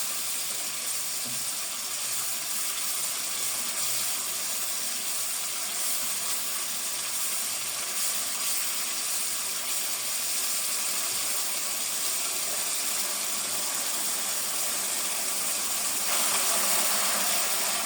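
A spiced gravy with turmeric and Kashmiri red chili fries in a pan for a chicken liver and cauliflower dish, giving a steady, loud hiss and sizzle that runs unbroken throughout.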